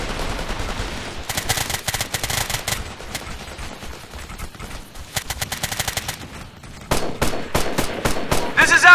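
Suppressing gunfire in Operation Flashpoint Red River, with sustained automatic bursts of rapid shots broken by short pauses, then heavier, more spaced single shots toward the end.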